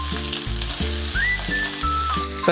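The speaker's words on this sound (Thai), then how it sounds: "ใส่พริกแกงที่เขาตำแล้วลงไปครับ ใส่ลงไปเลย คั่วเจ้าพัดเจ้าให้มันหอมเนาะ" Pounded Thai curry paste stir-fries in a pan over low heat for dry-fried chicken, a steady close sizzle broken by regular stirring strokes, with no talking.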